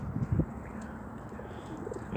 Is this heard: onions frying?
no